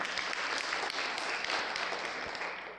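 Audience at a public speaking talk applauds, a brief, even burst of many hands clapping that fades slightly at the end.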